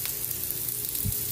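Garlic, ginger and onion sautéing in a hot pan give a steady close sizzle with a few scraping stirs of a ladle, no voices.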